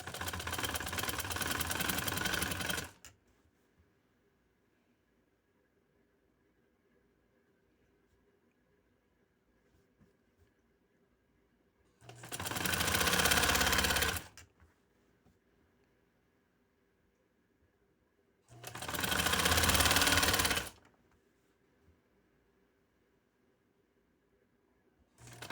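A sewing machine stitching a lace neckline runs in three separate bursts of a few seconds each, a loud close whirring hum, with near silence between them.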